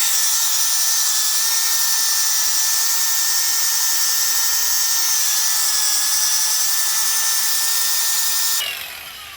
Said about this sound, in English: My next attack is going to be this cut brush on an angle grinder.